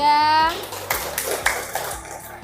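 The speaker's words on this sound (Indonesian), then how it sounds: "Tepuk tangan untuk kelompok 3." After a group's presentation in a school classroom, a voice speaks briefly, then a small group breaks into clapping. The applause is moderately loud and fairly even and lasts under two seconds.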